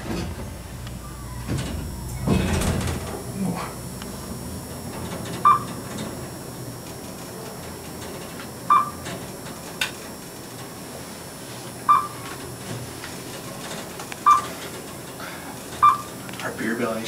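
A custom Dover Impulse traction elevator at a Sheraton in Greensboro, NC rides upward with a steady low cab hum. Short floor-passing chimes ring at regular intervals of roughly three seconds, with brief rattles near the start.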